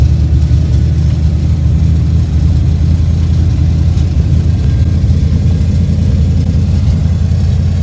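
A Chevrolet S-10 pickup fitted with a V8 LT1 engine holds a steady, loud low rumble as the throttle is eased on, the drone staying close and continuous with no talk over it.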